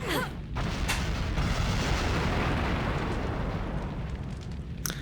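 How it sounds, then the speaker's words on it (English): A sustained roaring blast of explosions in the video game Onimusha, loud and rumbling, with sharp crackling bursts at the start and end. "We already have explosions."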